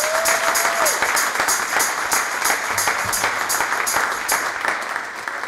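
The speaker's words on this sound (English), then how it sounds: "So can you give Dr. Marcia Bayne-Smith a big round of applause?" A sanctuary audience claps for a guest speaker, a continuous wash of many hands clapping at a steady level, tapering slightly toward the end.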